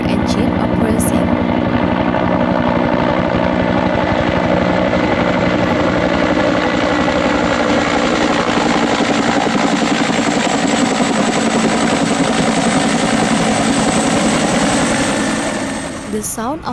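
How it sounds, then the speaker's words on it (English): A loud helicopter drones continuously with rapid rotor thumping, steady and close for the whole stretch before fading slightly at the end. "the sound of the helicopter engine approaching"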